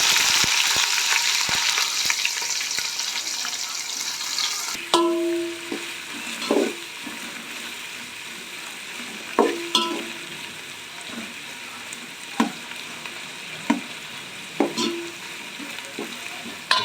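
Onions frying in a pan with cardamom, cinnamon and cloves for coconut milk rice, a steady sizzle with sharp spoon scrapes and knocks at irregular intervals, close and alone without talk.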